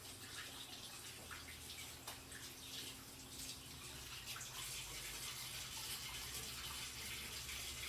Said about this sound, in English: hold on, I'm washing my hands.